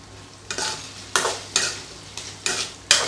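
Cut drumsticks sautéing in oil: about six spaced stirring strokes, each a scraping swish over a steady sizzle, close and clear, with no talking.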